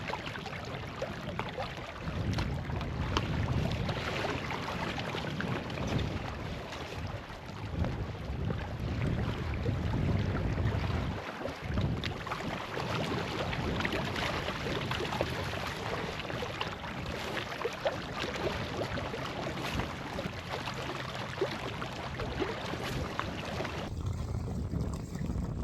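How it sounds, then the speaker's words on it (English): Cold wind blows steadily across a breakwater on a cold day, a continuous rough rumbling buffet against the microphone with faint water movement, no one speaking. "Wind coming into our face. Not a big wind, but a very cold day."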